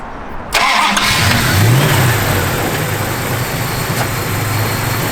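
A 1970 Plymouth Cuda engine cranks and fires after a brief quiet moment, then revs up loudly and settles into a steady, rumbling run close by.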